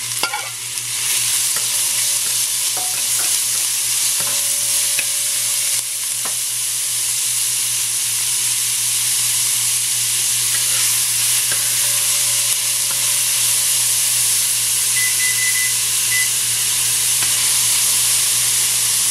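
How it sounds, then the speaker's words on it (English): Onion, garlic and pepper fry in a hot pan at medium heat for a Trini curry of long beans, giving a steady close sizzle with occasional stirring scrapes and no talk throughout. "I'm gonna add my onions first. So we're gonna fry up all the onion, garlic,"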